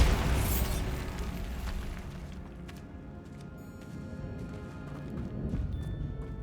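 A Bombarda blasting spell explosion in Hogwarts Legacy, a loud booming burst at the start that fades into a rumbling, crackling tail with scattered debris sounds.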